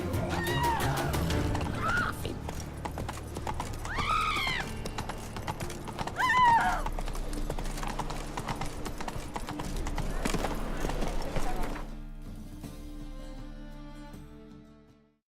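A horse clip-clops along at a steady trot, hooves close and clear, with a few neighs and whinnies breaking in before the sound fades out at the end.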